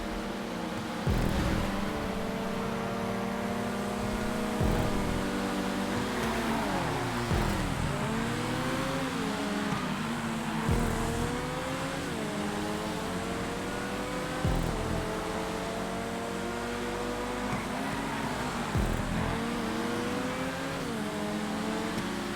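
Grotti X80 supercar engine racing in GTA 5 on an airport track, a loud continuous whine rising and falling through repeated gear shifts and revs, close and steady throughout.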